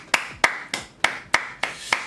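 A single pair of hands claps seven times at an even, steady pace, close and crisp, with no other sound between the claps.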